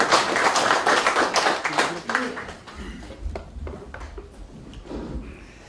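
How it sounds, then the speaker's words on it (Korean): Applause from an audience at a Korean political forum, loud at first and then fading to scattered claps and murmuring over the last few seconds. "큰 박수 부탁드립니다."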